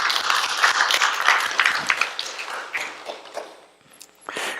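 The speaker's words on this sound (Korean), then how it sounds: "우리 모든 세상의 어머니들을 위해서 우리 박수 한번 드릴까요?" A church congregation applauds for mothers on Mother's Day. The dense clapping is loud at first, thins and fades toward the end, and rises again in a short final burst.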